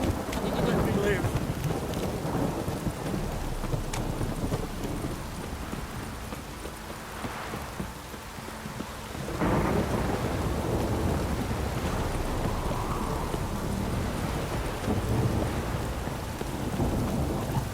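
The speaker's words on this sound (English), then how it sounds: "This downpour's a bastard, it is." A thunderstorm downpour in The Witcher 3 video game: steady heavy rain with rumbling thunder swelling midway, and horse hooves clip-clopping faintly beneath.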